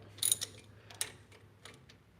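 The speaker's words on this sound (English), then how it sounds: "now what we're just gonna do is just tighten these down with a 13 millimeter socket" A 13 millimetre socket ratchet tightening bolts during a brake pad replacement gives a few quick, faint clicking bursts in a quiet space. A louder cluster comes early, then sparser clicks follow.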